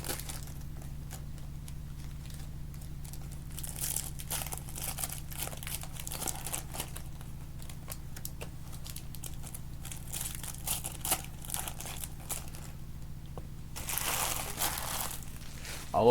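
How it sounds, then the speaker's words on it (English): Silver packs of Topps Series 1 baseball cards are torn open, with soft continuous foil-wrapper crinkling and crushing under a steady background hum, brighter rustles near the end. "I'll open the silver packs."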